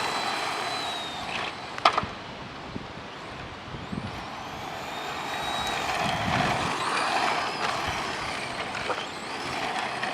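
HPI Sprint 2 Sport 1/10 RC car motor held at full throttle, a steady high electric whine with some clatter, fairly faint and continuous throughout.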